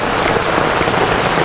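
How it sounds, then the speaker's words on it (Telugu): A heavy hailstorm with rain lashes down in Hyderabad, a loud, dense and unbroken roar of drops and pellets striking surfaces close by. "చాలా బీభత్సంగా ఇప్పుడు వడగళ్ళ వాన కూడా ఎక్కువైంది"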